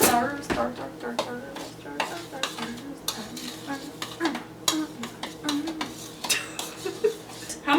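A spoon scrapes and knocks against a bowl while Christmas cookie dough is stirred in a home kitchen, with irregular clinks and scrapes close by and occasional brief talk.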